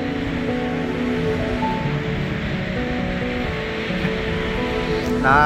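Steady roar of sea waves and surf, a continuous broad wash of water sound with wind noise, no voices.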